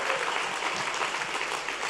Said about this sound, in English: Easter is coming, and that is worth cheering for.